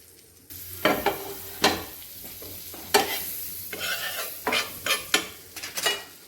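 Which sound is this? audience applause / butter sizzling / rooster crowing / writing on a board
butter sizzling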